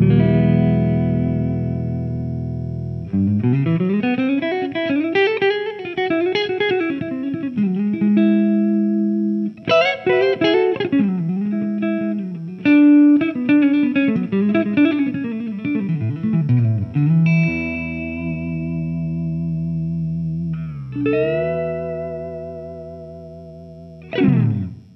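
Clean electric guitar, a Vigier Excalibur Supra on its neck pickup with distortion off, has a warm, round tone and plays a melodic phrase of single notes and chords, ringing out with some sustain and light ambience.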